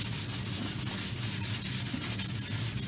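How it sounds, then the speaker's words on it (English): Steady hand sanding with fine 600-grit sandpaper on a base, a continuous close scratchy rubbing with a faint back-and-forth rhythm and no talking. "Change that over and go to 600, which gives you the final sand"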